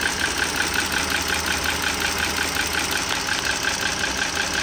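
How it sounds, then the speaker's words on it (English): A Dodge Journey SXT 3.6 L V6 idles steadily, a rapid, even clicking from a faulty rocker arm ticking over the constant engine hum, loud and close throughout. "It sounds like a clicking, tapping noise, and the closer I get, the more you can hear it."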